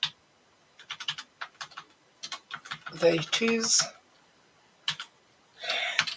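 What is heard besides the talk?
typing on a computer keyboard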